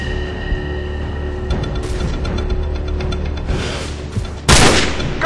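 Gunfire in the video game Call of Duty 4: Modern Warfare, with sharp cracks and bursts scattered over a steady battle drone, ending in one loud, close shot, and no speech.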